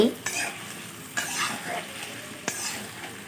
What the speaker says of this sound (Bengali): গুঁড়ো লঙ্কা হলুদ আর নুন দিয়ে ভালো করে কষতে হবে